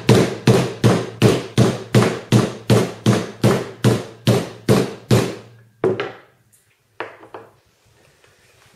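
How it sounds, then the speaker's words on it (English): A rubber bung is driven down onto a stainless washer against a casting while a remote launcher kit is assembled: a fast, steady run of about fourteen loud, close knocks, then two isolated taps and quiet. "send that rubber bung all the way down to the face of that washer, where it will make a nice secure seat"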